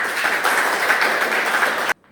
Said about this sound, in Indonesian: Beri tepuk tangan dong teman-teman